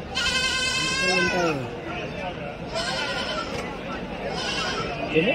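Three drawn-out, trembling goat bleats ring out close by at the Tuesday goat market in Kadiri, spaced a second or so apart against a constant hum of market noise.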